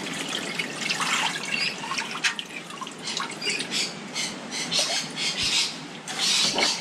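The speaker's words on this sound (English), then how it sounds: "Just topping it up with a bit more CFS and water" CFS cleaning fluid and water being poured into a tank holding Detroit Diesel heat exchanger cores: steady, close splashing and trickling with dripping accents, moderately loud and unbroken.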